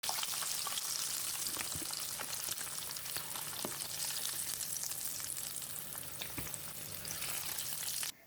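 Pieces of duck fry steadily in hot oil, giving a dense, even sizzle with scattered pops and crackles, close and loud throughout with no voices.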